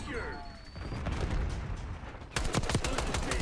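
Automatic gunfire from a high-recoil weapon with a CHF barrel in the video game Black Ops 6: a rapid, loud burst of close shots in the second half, following a rumbling stretch of game noise, with a voice faintly underneath.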